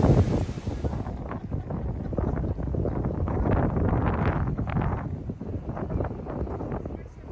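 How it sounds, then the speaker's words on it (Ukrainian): Gusty wind rumbles and buffets the microphone outdoors near Tower Bridge in London, with a faint murmur of voices somewhere in the background. "Ну і вітер. Такий противний."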